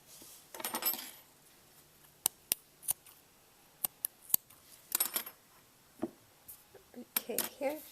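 Scissors snip crochet yarn strings for a little girl's sun hat, giving several sharp, quick clicks and snips scattered through a quiet room, with soft handling rustles between them.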